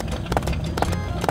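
Cartoon horse hooves clip-clop in a quick, steady rhythm of crisp knocks over a dense, busy backdrop, close and moderately loud.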